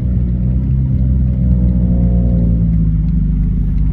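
Several cars at a car meet rev their engines in a steady, loud, close rumble, with a rising engine note swelling briefly near the middle before settling back into the continuous growl.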